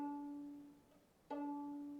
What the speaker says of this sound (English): we're going to contrast it with the violin when plucked